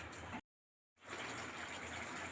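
Water poured into a pan of double beans gravy while it cooks, a steady gushing pour up close that breaks off briefly and then resumes loud and continuous.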